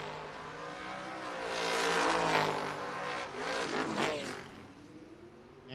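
BMW drag race car launching at a no-box 660 drag strip, a distant roaring engine building and swelling as it runs down the track, moderately faint.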